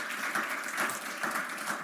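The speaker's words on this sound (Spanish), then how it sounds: "Dele un aplauso al Señor si quiere dárselo." Church congregation applauding the Lord during a Spanish-language sermon, a moderate, fairly quiet wash of clapping with slight swells, carrying on evenly.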